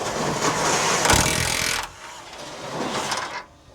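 An impact wrench fitted with a 17mm socket removes a subframe bolt from a broken Rover during parts stripping. It makes a loud, dense rattling buzz for about two seconds, then a quieter second burst, both close to the listener.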